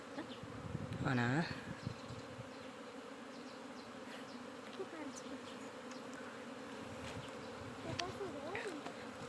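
Honey bees from an escaped swarm buzz in a steady outdoor drone, with one louder pass of buzzing close by early on and faint sounds scattered through the background.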